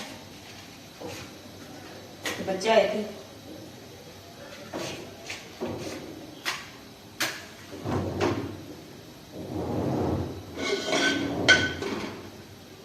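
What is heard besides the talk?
door being closed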